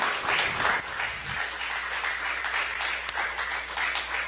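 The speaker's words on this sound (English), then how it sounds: "May be able to hear some clapping here in the room in Mission Control." Clapping in NASA Mission Control after a Boeing Starliner landing, steady group applause over a constant low room hum, moderately close, with a brief early rumble.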